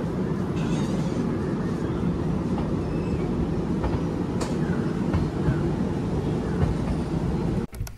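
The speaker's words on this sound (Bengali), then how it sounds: "সান্ডিলা স্টেশন থেকে আমাদের ট্রেন ছাড়লো।" The Kolkata–Jammu Tawi Express rolls along after leaving Sandila station, a loud, steady rumble of wheels and carriages with faint clicks, heard from inside the train until it cuts off abruptly at the end.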